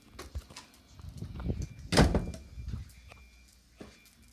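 A door being found and handled by someone with eyes closed, giving a few close, muffled thunks and knocks with a louder bump midway, no talking.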